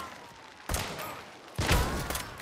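Two sniper rifle shots in a video game, each a sudden loud crack with a rumbling tail, spaced about a second apart, the second slightly heavier, with no voices.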